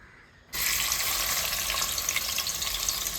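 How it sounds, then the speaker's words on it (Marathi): Onions hit hot oil in a pan and burst into a loud, steady sizzle after a brief quiet moment, continuing as a dense crackling hiss with no talking. "आपल्याला तेलावर मस्तपैकी कांदो टाकलोय आता कांदो शिजावून घेऊ आपण"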